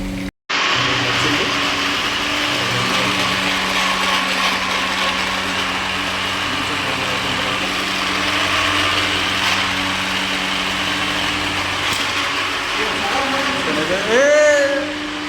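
A motor whirs loudly and steadily for several seconds like a mixer grinder running, grinding mint chutney ingredients, then winds down at the end, close up.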